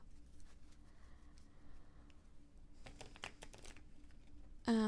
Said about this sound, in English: These definitely don't shuffle like as well as some of the other ones I have